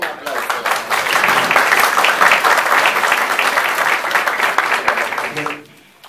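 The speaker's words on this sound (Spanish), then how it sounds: "Estimulemos siempre con un aplauso." An audience at a queen candidates' event in Latacunga claps in sustained, dense applause that holds steady for several seconds and then fades out.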